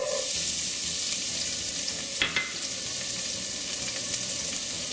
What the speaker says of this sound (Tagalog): pinapainit lang natin itong mantika at pagkatapos ay ilagay na natin kagad dito ibang mga ingredients para igisa